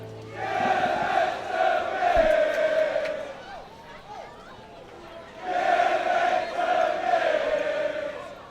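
Bishops supporters chant and cheer loudly at an under-19 boys' water polo final against Reddam, in two long sustained swells of massed voices with a brief lull between.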